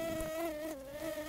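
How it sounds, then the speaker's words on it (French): A mosquito buzzes with a thin, steady whine close to the ear, its pitch wavering slightly and dipping briefly before an abrupt sharp noise at the end. "Va-t'en, moustique"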